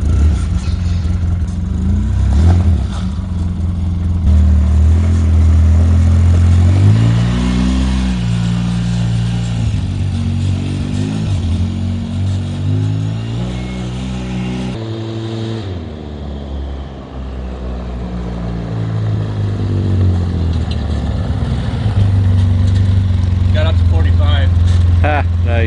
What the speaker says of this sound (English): This is the Polaris Ranger 800 EFI High Output Ranger RZR S.